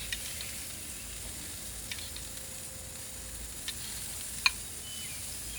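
Butter sizzles softly and steadily on lamb loin chops over a grill, with a faint hiss and a few scattered sharp crackles and pops.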